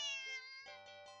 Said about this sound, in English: the cat meows sharply at you and dashes off around the corner and into the hall